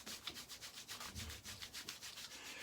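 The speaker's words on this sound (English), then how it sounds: "Just get a little application of that on, and we'll rub that into the whiskers" A shaving soap cube being rubbed into whiskers gives a close, quiet scratchy rasp in quick repeated strokes, steady and rhythmic with no talking.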